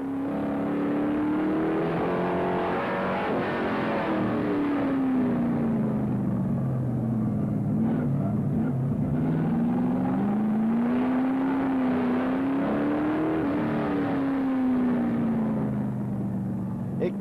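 Kia race cars racing in a FASCAR event at the Grand Prix de Trois-Rivières street circuit: a loud, sustained engine drone rising and falling in pitch as the cars pass and shift, with a commentator talking over it.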